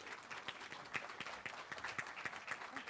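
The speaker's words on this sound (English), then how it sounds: "Please give her a round of applause as she comes." Audience at a nursing college white coat ceremony clapping as a professor comes up, a quiet, fairly distant patter of applause from a modest crowd.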